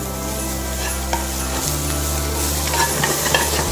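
Stuffing ingredients sizzle and sweat in a hot pan, giving a steady, close frying hiss with occasional stirring scrapes and no talking.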